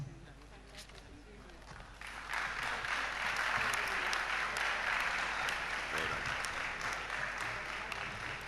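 Steady applause from a crowd at an awards ceremony for top exam students fills the room, starting moderately and swelling louder after a couple of seconds, with some voices mixed in.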